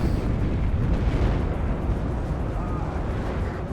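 Artillery barrage pounding a tank in the real-time strategy game WARNO, heard as a dense, continuous low rumble of overlapping booms and blasts at steady loudness, with a faint voice underneath.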